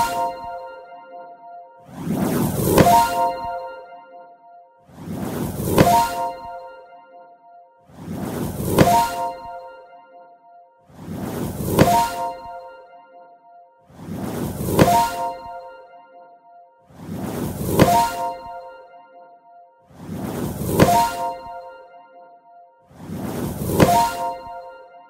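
A game sound effect for a healing ability, heard as eight identical metallic impact clangs, each with a brief rising swell into a bright ringing hit. They repeat evenly about every three seconds, loud and isolated.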